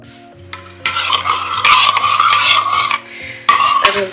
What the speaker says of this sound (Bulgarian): Разбъркваме.